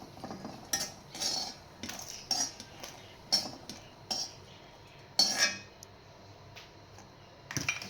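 Roasted cashews scooped onto a plate with a metal spoon while making idli podi, giving a series of short, close clinks and scrapes of spoon against pan and plate, about a dozen irregular taps with no talking.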